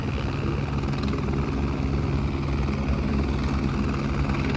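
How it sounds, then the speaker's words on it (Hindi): Two helicopters flying close by near Kedarnath in the rain, a steady low rotor and engine drone that stays constant and fairly loud, with no talking over it. "2 हेलीकॉप्टर आ गए पास, देख रहे हो कितनी कर रहे हैं दोनों"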